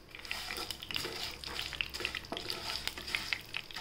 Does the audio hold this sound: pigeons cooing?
no